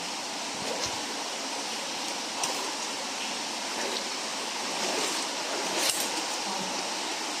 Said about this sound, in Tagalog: Meron pong waterfalls dito.